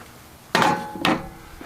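A Winchester SXP pump shotgun being broken down gives two sharp metallic clacks about half a second apart as the slide comes out, close and alone.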